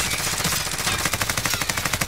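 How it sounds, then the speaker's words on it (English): Rapid gunfire from a weapon in the Warzone video game, a fast, even string of loud, close shots that speeds into a dense burst in the second half, with no talk over it. "Why am I firing semi-auto?"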